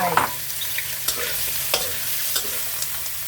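Sliced shiitake mushrooms tipped into a pot of braising pork ribs and daikon, then stirred with a utensil, giving a loud hiss with sharp scraping clicks over a steady sizzle.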